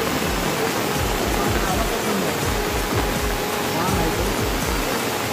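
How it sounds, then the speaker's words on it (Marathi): A river in flood rushes past with a loud, close, constant roar, carrying a rapid low pulsing churn underneath. "पाण्याचं एकदम रौद्र रूप धारण करतो, हां पाणी वाहत आहे ना"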